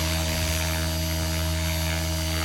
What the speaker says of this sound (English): I'm just hovering the helicopter there